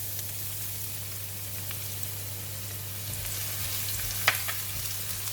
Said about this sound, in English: I'm going to fry the garlic until golden brown